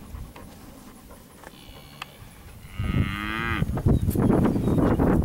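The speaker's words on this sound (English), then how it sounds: "This will be some more of the Williams cattle." Steer calves from a farm cattle lot moo loudly and close, with two or three drawn-out calls overlapping amid shuffling livestock noise.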